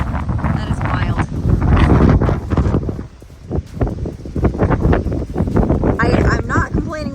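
Strong gusting wind from a severe storm during hay making outdoors, roaring and buffeting the microphone loudly throughout, with a brief lull midway and people talking under it.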